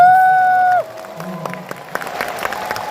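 An audience applauds at a Korean traditional music performance, the clapping rising as a steady mid-level patter right after a sustained tone fades out, with no talk over it.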